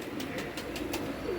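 Teddy pigeons cooing, a soft, steady run of low, rolling coos that repeat close by, with faint, regular clicks above them.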